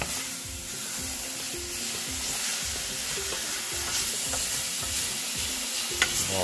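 Pork mince sizzles steadily in a pan on high heat, sticking to the bottom, with repeated scraping and stirring strokes close up throughout and no voices.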